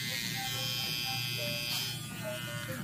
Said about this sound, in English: Test the trimmer before closing it up to ensure it runs properly with the power button.